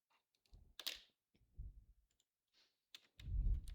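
Code being typed on a computer keyboard, a few separate close clusters of clicks and key taps with short pauses between them.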